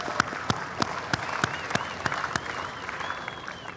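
Audience applause at a large outdoor culture festival after a performance by a Japanese group, with steady clapping from a big crowd and a few sharper claps standing out, sustained at moderate loudness.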